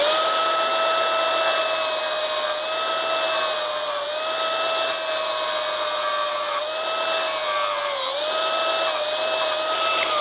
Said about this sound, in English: we do want to remove this leftover material as well to make this pretty much nice and flat. So we're just going to use a grinder for that